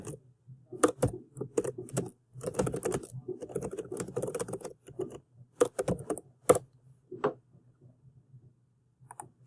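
A chat message being typed on a computer keyboard, with close, clear bursts of key clicks in uneven runs separated by short pauses.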